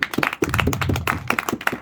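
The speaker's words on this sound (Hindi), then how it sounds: "ताली किसने बजाई?" A room of people claps at a motivational business training session, a brisk, close burst of overlapping hand claps lasting under two seconds.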